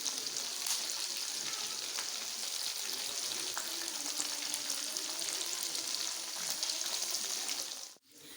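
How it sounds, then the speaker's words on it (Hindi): Chicken dhabu pieces frying steadily in a pan, a dense, even sizzle with faint crackles running throughout, cutting off abruptly near the end. "तो चिकन अच्छी तरह से फ्राई हो चुका है"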